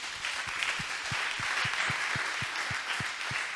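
A church congregation applauding, a dense, steady wash of many hands clapping throughout, with a faint rhythmic thump underneath.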